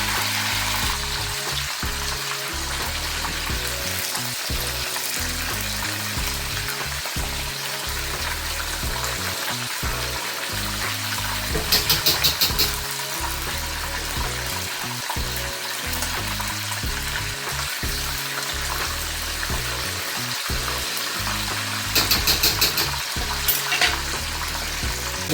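Fish frying in a pan for Vietnamese fried fish, crisping in hot oil with a continuous loud sizzle and spatter throughout and a few sharper crackling bursts near the middle and end, no voices.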